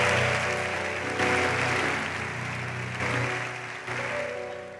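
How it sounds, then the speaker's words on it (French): A church congregation applauds during a Sunday service, a dense, sustained wash of clapping that swells and eases over a low musical hum, heard from within the hall. "si quelqu'un veut applaudir, c'est là"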